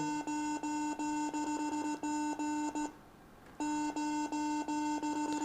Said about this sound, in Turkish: derhal boşalt dediğimde e, titreşimli bir ses gelmekte